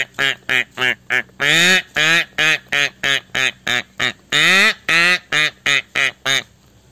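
On a talent-show stage, a performer's voice imitates ducks with a rapid run of loud, nasal quacks, about two dozen short honks plus a few longer drawn-out calls, close and unaccompanied.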